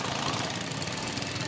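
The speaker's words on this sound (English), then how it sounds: "Here come some really good looking cars." Race car engines, Indy or Formula One style, rolling past in a fair parade, a continuous dense mechanical roar with steady rumbling vibration, loud and close throughout.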